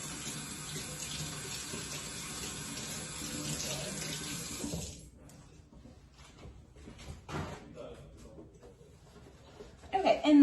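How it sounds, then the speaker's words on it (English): Tap water runs steadily for about five seconds while hands are washed at a kitchen sink, then the flow stops, leaving drips, clinks and handling noises closing out the clip. "Hand washing."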